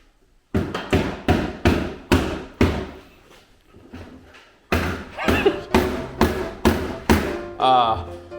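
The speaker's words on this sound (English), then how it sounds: "Where in the instructions does it say to hammer a push pin in?" Sharp, evenly spaced hammer taps drive plastic push pins for fender flares on a 2022 Polaris General XP 1000, ringing out in two runs, about five strikes, a short pause with faint movement, then seven more.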